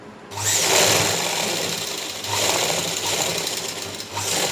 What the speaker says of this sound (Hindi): उसी के नज़दीक हमने सिलाई लगानी है